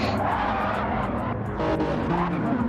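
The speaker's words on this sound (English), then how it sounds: "I heard a little bit of tire screeching here." Race car tires squeal briefly through a chicane at the Daytona road course in a sim race, the screech riding over a constant roaring engine drone.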